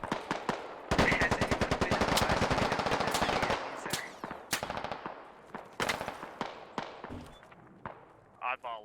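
Gunfire in the military shooter Squad: a long, close burst of rapid automatic fire, then scattered single shots and short volleys, with voices talking over the firefight.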